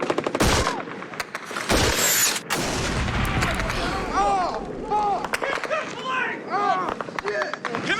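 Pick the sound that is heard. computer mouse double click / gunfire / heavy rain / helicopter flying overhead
gunfire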